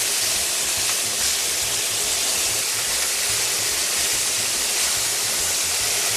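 Lobster halves sauté cut side down in a hot pan, giving a loud, steady, broadband sizzle that runs unbroken and close throughout with no talking.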